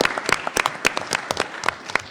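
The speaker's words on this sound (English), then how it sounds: "I'm not sure we can give an applause anyway." Scattered applause at a national moot court competition final for a best brief award, a thin round of separate claps from a small audience, brief and fairly close.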